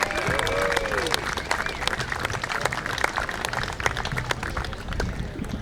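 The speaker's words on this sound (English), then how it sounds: "let's give them a round of applause and thank them." A crowd applauds the participants at a national fife and drum muster in Branford. The clapping is moderate and steady, with faint background chatter and a few brief tonal sounds mixed in.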